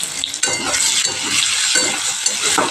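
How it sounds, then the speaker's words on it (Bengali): Beetroot and potato frying with spices in a pan give a loud, close, steady sizzle broken by repeated scraping strokes of a stirring utensil, with no talking. "বিট আর আলুটা আমার ভালো করে ভাজা হয়ে গেছে এবার আমি এর মধ্যে এক এক করে সব মশলা অ্যাড করে দিচ্ছি"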